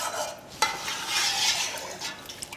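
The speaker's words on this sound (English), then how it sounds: "if we give our pot a bit of a stir just to get all of the cooked split peas mixed through" A pot of pea and ham soup with cooked split peas stirred by spoon, a brief scrape and a soft sloshing swirl close by.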